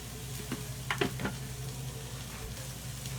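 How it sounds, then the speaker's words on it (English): Diced tomatoes land in a hot pan of partially cooked rice, setting off a steady close sizzle with a few brief clatters of stirring near the start, over a low constant hum. "now we add some diced tomatoes"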